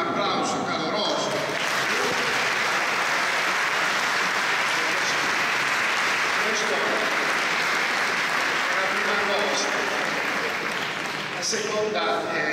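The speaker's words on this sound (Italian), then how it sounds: "fatevi un applauso caloroso" Warm, sustained applause from a parish choir concert audience in Termoli, dense and steady from start to finish, easing slightly near the end.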